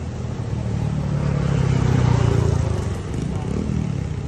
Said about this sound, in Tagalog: Ang madami motor.